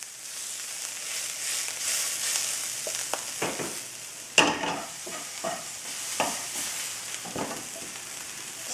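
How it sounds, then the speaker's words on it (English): Dry vegan bacon poblano patty mix being stirred in a bowl, a steady soft scraping and rustling with scattered sharper knocks of the utensil, close and fairly quiet throughout. "And we better stir this around too"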